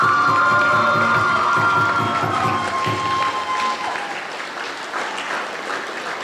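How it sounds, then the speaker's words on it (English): Applause rises from the audience at a Bharatanatyam arangetram dance recital, loud and dense with some cheers at first, then slowly thinning and fading over several seconds. "One more big round of applause for our star of the night."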